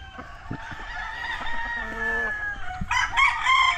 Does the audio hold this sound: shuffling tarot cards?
no